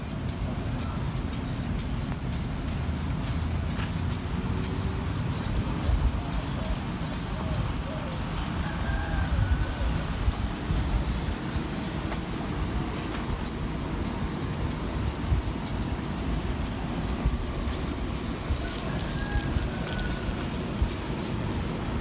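Adhesion promoter sprays onto the trim of a Trailblazer as a long, steady hiss with short repeated bursts, fairly close and moderately quiet throughout.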